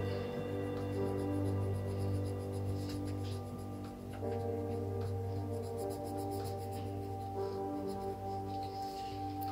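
A drawing on paper is coloured in with a steady, continuous scratchy stroking that runs almost without pause, with music playing underneath.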